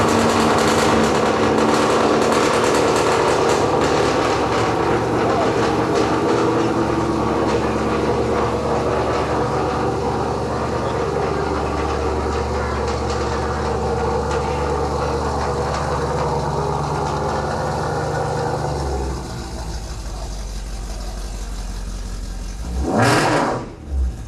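A black 1990 Ford Mustang Foxbody coupe with stock mufflers rumbles loudly and close for a long stretch, its engine note dropping after a while before one sharp rev blips near the end.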